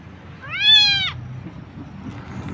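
A single drawn-out kitten meow, high and rising then falling, rings out clearly over a low background rumble and then fades.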